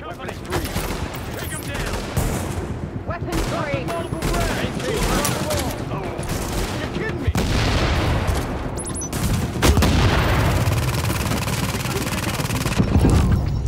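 Loud bursts of gunfire and grenade blasts from the shooter game The Division at Grand Central Station, rapid volleys running almost continuously and growing heavier toward the end, with occasional voices in the mix.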